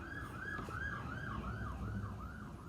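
A wailing emergency siren rises and falls in steady repeated sweeps, with a low rumble of traffic underneath.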